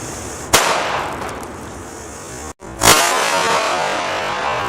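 A TLSFx Mark V airsoft pea grenade filled with dried peas, heard as two sharp, very loud bangs a couple of seconds apart, each trailing off in a short ringing decay, close by with no voices.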